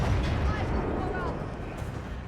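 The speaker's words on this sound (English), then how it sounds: "just hear these grand cannons fire" Grand cannons in Total War: Warhammer 3 fire in a heavy, rumbling barrage of deep booms, loud and close, with battle noise carrying on beneath them.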